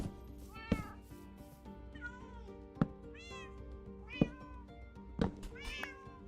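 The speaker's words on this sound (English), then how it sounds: "My gosh, all these cats." Many cats in the Minecraft video game meow over and over in overlapping calls, with sharp clicks between them over a steady background hum.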